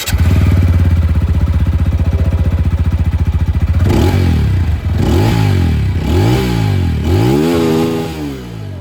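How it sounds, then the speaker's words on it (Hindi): A TVS Apache RTR 200 4V motorcycle with dual exhaust idles loud and close with a rapid, steady thump, then gets four or five sharp throttle blips that rise and fall in pitch. "जो एग्जॉस्ट साउंड है बाइक की वो मैं सुना देता हूँ और मैं स्टार्ट करता हूँ यहाँ पर 204V के साथ।"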